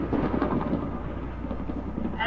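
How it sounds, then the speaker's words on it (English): Continuous heavy rain and low thunder rumble fill a video game scene, a dense, steady wash at fairly loud level with no break across the short stretch. "I think the rain kills us."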